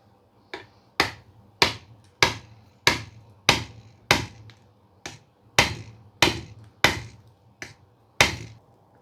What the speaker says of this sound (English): I'm just going to put this nut on top, and I'm just going to hammer this out.